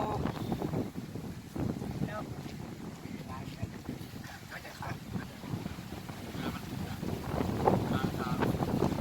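Dry wind gusts steadily across the bank of the Mekong River, a broad rushing roar buffeting the microphone throughout, with people talking over it and the noise swelling louder near the end.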